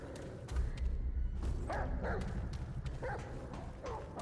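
In the video game Remnant: From the Ashes, a dog barks several times at a moderate distance, the short yelps repeating against a low rumbling game ambience, with no talk over them.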